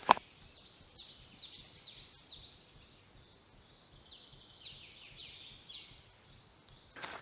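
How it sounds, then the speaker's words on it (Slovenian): Small birds chirp and trill in a quiet mountain forest near waterfalls, with repeated high twittering phrases over a hushed background and one sharp knock at the start and the end. "Upam, da se je uspel slišati ta mir pa ptički."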